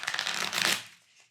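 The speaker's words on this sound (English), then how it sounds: "we'll shuffle these just a little bit." A deck of playing cards is riffled in a single quick shuffle, a crisp close flutter of paper edges that ends in a soft settling rustle.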